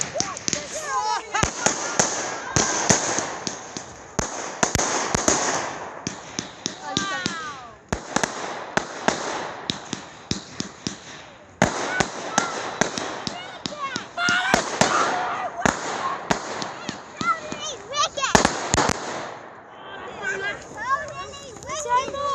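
Fireworks at a firework party pop and crackle in rapid, irregular bursts of sharp bangs, some close and loud, while people talk and murmur in the background.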